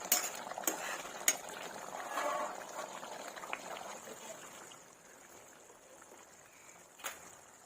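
Spices are stirred into a tamarind egg curry in a pot, with soft scraping, clinks of a spoon against metal and a faint bubbling underneath, quiet and close, with a few sharper knocks.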